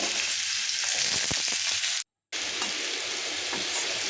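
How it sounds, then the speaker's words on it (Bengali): Potatoes for aloo posto frying in hot oil give a loud, steady sizzle that runs throughout, broken only by a brief silent gap in the middle, with no voices. "আলুটাকে আগে ভেজে নেব"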